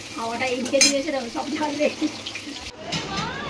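Onions fry in oil with a soft, continuous sizzle and stirring, heard briefly under a person talking at an outdoor school party cooking session.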